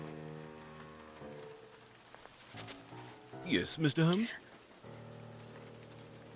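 Steady rain falls in the Sherlock Holmes: The Case of the Silver Earring video game, a soft continuous patter under a man's brief spoken reply and other game sounds.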